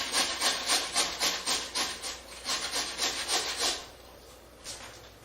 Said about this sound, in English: grate our potatoes as well as our onion through that